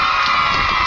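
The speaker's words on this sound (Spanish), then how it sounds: "¡Fuerte el aplauso para ella!" A loud, steady roar of a crowd cheering and clapping, sustained without a break for the whole moment.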